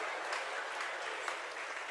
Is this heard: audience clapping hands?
yes